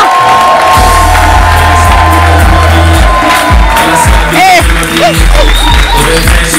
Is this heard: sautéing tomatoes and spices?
no